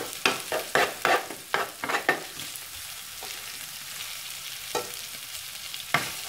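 Already-cooked chicken wings and onion fry in a pan over a gas flame: a steady sizzle, with a cluster of sharp stirring scrapes early on and a few single knocks later.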